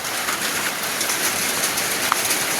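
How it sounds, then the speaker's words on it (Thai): Steady rain falling outdoors, a dense, even hiss with no pauses and a faint chirp from a bird near the end. "ฝนตกพี่น้อง"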